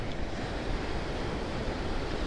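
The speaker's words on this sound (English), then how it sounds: "Probably some pretty big waves coming in." Big ocean surf rolls and breaks in a continuous wash of roaring noise, with wind buffeting the microphone throughout.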